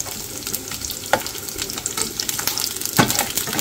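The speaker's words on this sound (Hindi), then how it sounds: "मैं इस तरह से इसको हल्का सा ब्राउन कर लेती हूँ ताकि इसका टेस्ट बॉयल्ड ना नजर आए" Meat browns in a hot pan while cooking down with masala, giving a steady, close sizzle and crackle that runs throughout, with a few louder spits and stirring clatters.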